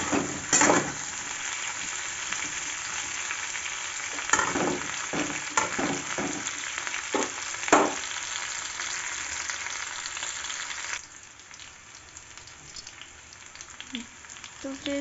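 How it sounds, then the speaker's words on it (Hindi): Potatoes and cauliflower fry in a pan with a continuous sizzle, punctuated by several stirring scrapes in the first half; the sizzle drops quieter near the end. "आप आलू और गोभी दोनों को फ्राई कर रहे हैं।"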